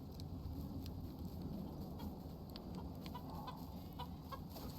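Chickens cluck steadily in the Icarus open-world survival video game, a soft continuous flock chatter over constant ambient background noise with no voices.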